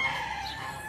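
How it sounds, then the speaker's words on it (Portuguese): Rooster crowing outdoors at a rustic garden area with birds, a sustained tonal call filling the short moment, fairly loud and close with no voices. "O galo novamente."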